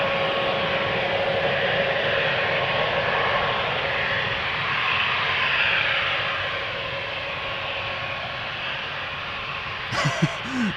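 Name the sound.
Embraer 190 jet taking off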